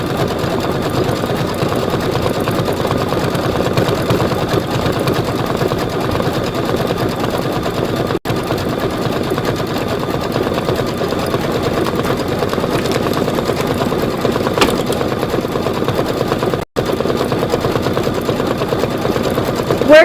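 Sewing machine stitching fabric down for a Kimberbell sew-along project, a steady, loud, rapid mechanical whirr running continuously, with two brief breaks.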